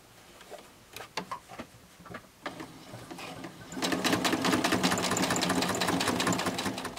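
A sewing machine stitches a seam along the edge of a wallet panel: a few slow, separate needle clacks first, then a fast, steady, close mechanical rattle of continuous stitching for the last few seconds.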